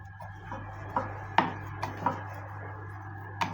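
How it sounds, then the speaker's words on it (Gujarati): A rolling pin works methi malai puri dough on an oiled wooden board, giving soft, sparse knocks and taps over a steady low hum, close and quiet, with no speech. "પાટલી ઉપર થોડું આ રીતના ઓઇલ લગાવી લુવા મૂકી પૂરીને આપણે વણી લઈશું"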